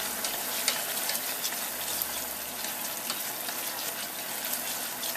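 Scallion oil sizzles and spits in a hot pan while it is stirred, giving a steady, dense hiss close by with small pops, and no talking.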